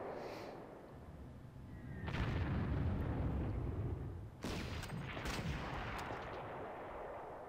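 Artillery fire in the Panzer Corps strategy game, heard as two heavy booming blasts with rumbling noisy decay, the second sharper, at moderate loudness.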